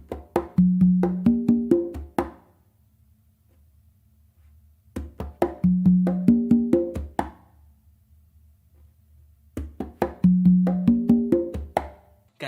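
Conga and tumba drums play a combined pattern of rapid open tones and slaps, three bursts of several quick ringing strokes separated by short silences, close and unaccompanied.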